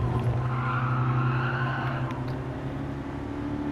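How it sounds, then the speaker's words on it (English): Tires squeal under hard braking as a car slows for a downhill right-hand turn in Gran Turismo Sport. The engine drones loud and steady throughout, with the screech running continuously beneath it. "Just gonna have to pull the brakes."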